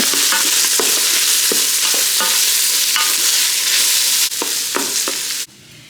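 Dry ingredients are stirred in a pan with repeated scraping strokes in an irregular rhythm over a soft sizzle, close up with no voices, the noise dropping away abruptly near the end.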